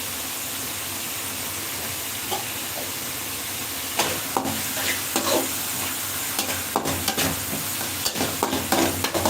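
Onion and tomato fry in a pan for a taro curry. A smooth hissing sizzle runs throughout, and later it is punctuated by sharp clicks and scrapes from stirring.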